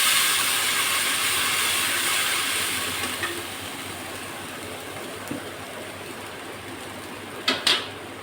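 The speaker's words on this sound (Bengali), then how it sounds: "এখন এর ভিতরে আমি একটু হালকা জল দিয়ে দেবো, অল্প জল দেবো, বেশি না।" Water poured into a hot pan of bele fish chochchori curry hisses and sizzles as a steady broadband steam that slowly eases, with a few light clinks near the end.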